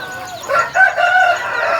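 Backyard chickens and a rooster before dawn at feeding time, with a crow and several clucks close by over a quiet background.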